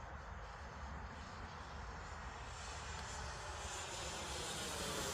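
Freewing 90mm F-16 V2 RC jet on a 6s setup flies overhead on its maiden flight, a steady, sustained engine whoosh with broad hiss, holding fairly even and rising slightly toward the end with no talk over it.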